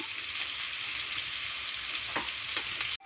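Onions sautéing in a pan for a cooker vegetable pulao, a continuous bright sizzle with a few light stirring knocks toward the end before it cuts off abruptly; near and even, no voices.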